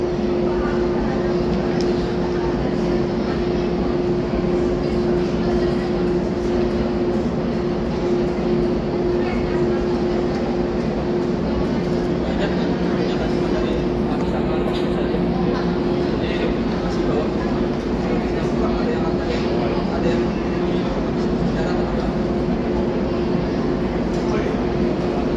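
A Jakarta MRT subway train hums and rumbles steadily through a long ride, with a constant whining tone and cabin noise under a person talking throughout.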